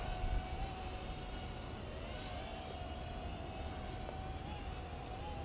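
A Realacc R20 mini drone flies outdoors near trees, its small motors making a continuous thin, high buzz with slight pitch wavers over a broad hiss.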